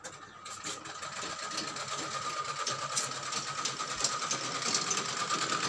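A sewing machine runs steadily in a tailor shop, a continuous close whirring with a fast mechanical rattle that holds at an even level throughout.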